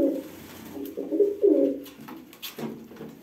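Uzbek white pigeons coo close by in several soft, low, throaty phrases that swell and fade, with no talking.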